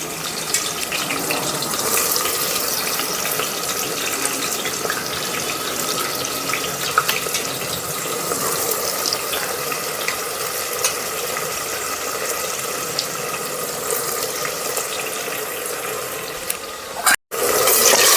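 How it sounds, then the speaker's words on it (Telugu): Chopped onions hit hot oil already seasoned with cloves, cinnamon and cardamom in a pot for vegetable rice. A loud, continuous sizzling hiss runs throughout, and a brief stir or clatter comes near the end. "కట్ చేసిన ఆనియన్స్ వేస్తున్నాను."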